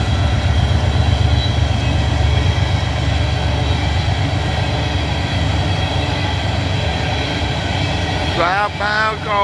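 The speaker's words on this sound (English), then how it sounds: "Southbound coal train coming out of Greenwood going through Happyville." A southbound coal train passes near Greenwood, a loud continuous rumble and grinding of rail cars rolling by for several seconds, with a brief voice at the end.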